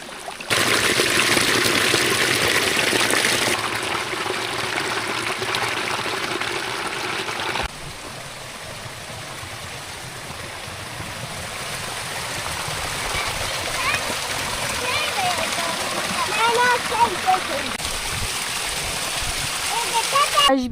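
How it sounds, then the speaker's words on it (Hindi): Water runs steadily through an irrigation channel leading to a garden, a continuous outdoor trickle and splash that holds at a fairly even level throughout, with some voices in the background. "इस तरफ को हम अपना पानी ले जाते हैं और यहाँ नीचे से हमारे जी हमसाए अपने बाग में पानी ले जाते हैं।"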